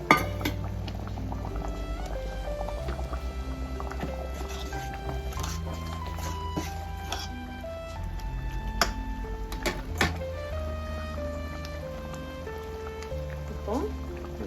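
Boiled eggs go into a simmering egg curry (muttai kulambu) with soft bubbling, small plops and clinks from the pot, while a voice talks over the cooking.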